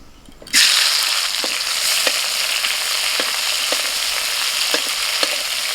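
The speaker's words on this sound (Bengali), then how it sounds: "মাছ ভাজার ওই তেলেতে টমেটো কুচোটা দিয়ে দিচ্ছি।" Chopped tomato drops into hot oil left from frying fish and bursts into a loud, sudden sizzle that stays steady, with a rhythmic stirring scrape every second or so.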